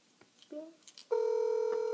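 A telephone handset beeps through a few short keypad tones as a prank call is dialed, then a long steady dial or ringback tone holds, loud and close, with faint background noise.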